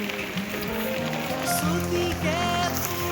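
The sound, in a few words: rain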